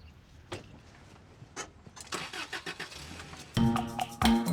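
A car nearby gives a few scattered clicks and knocks, then the engine cranks and catches near the end with a loud, rough burst and settling rumble, with no talking.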